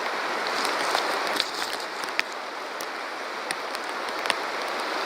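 A river flowing: a steady, broad rushing wash of water with small scattered splashes, continuous and even, with no talking.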